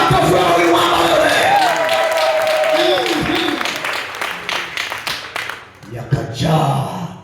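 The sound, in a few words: audience applause for a woman at a church sermon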